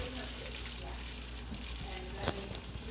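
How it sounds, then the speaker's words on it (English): Steady, dense sizzling of chicken frying in hot oil, a continuous crackling hiss filling the scene, close up, with a brief sharper pop near the end. "Now we got a sizzle like I like."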